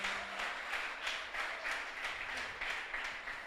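A church congregation claps in rhythmic, evenly spaced beats, roughly two to three per second, moderately distant and fairly soft in a reverberant hall.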